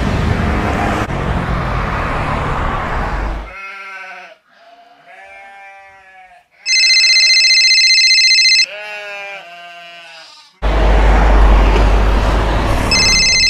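A telephone rings indoors with a steady, bright electronic tone lasting about two seconds, set among warbling tonal sounds and bursts of loud noise, with no talking.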